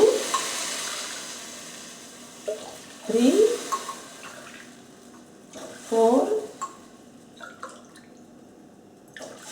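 Water is poured into a glass, measured cup by cup, two glasses per glass of rice, about one litre in all, for peas pulao. Gentle splashing and trickling comes in bursts between a woman counting aloud.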